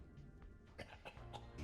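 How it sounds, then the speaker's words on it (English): A few sharp, dry coughs from a cartoonish character in a comedic tabletop-game show, coming in quick bursts close to the listener over a faint background. "Cough, cough."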